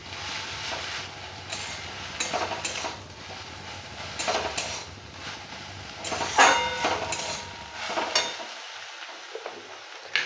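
Greens being stirred with whole poppy seeds in a pan for harek rokom shaak, with utensil scrapes and clinks over a soft sizzle, several louder knocks near the middle, and the frying fading out toward the end.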